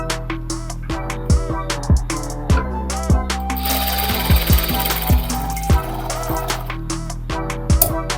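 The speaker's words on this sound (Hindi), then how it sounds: "यहाँ पे हमें डबल सिलाई लगाने हैं ताकि सिलाई ओपन ना हो।" A sewing machine runs in bursts while stitching a fabric border for a scrunchie, with a fast mechanical rattle and sharp clacks between runs.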